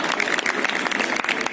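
An audience at a municipal school inauguration in Kanti Nagar ward, Delhi, claps briefly, producing a quick patter of separate hand claps.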